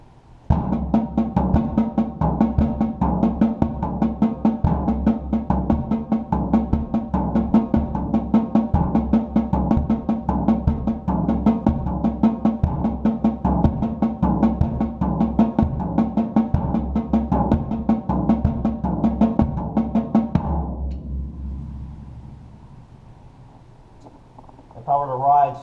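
A drum kit plays a polyrhythm with the bass drum on every fifth note of the floor tom sticking, a dense, steady stream of close, loud hits for about twenty seconds before it stops and rings out.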